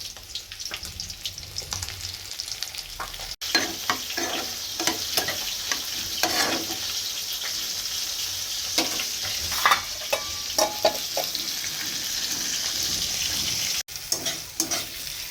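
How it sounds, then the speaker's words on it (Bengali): Steady hiss and crackle of fish frying in hot oil, with occasional clinks and scraping of a utensil, close and continuous. "এখানে মাছগুলো ভাজা হচ্ছে"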